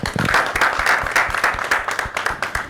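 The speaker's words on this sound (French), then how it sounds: "applaudissez" Audience applause at a gathering in Libreville, Gabon, with rhythmic clapping and a steady tonal murmur underneath, fairly close and loud.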